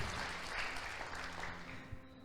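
Congregation at a church service clapping in a faint, continuous spatter of applause with a few sharper claps toward the end.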